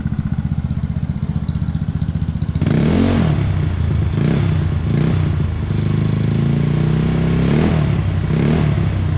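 A restored Yamaha Mio Amore scooter engine runs steadily close by, a dense, buzzing idle that rises in pitch as the throttle is blipped several times, with no talking.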